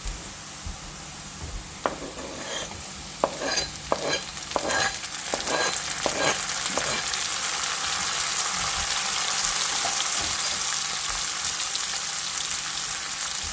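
Onions browning in a pan with chilies, spring onions and curry leaves added, a steady loud sizzle building as ingredients drop in, with several sharp stirring scrapes early on, then a dense continuous frying hiss.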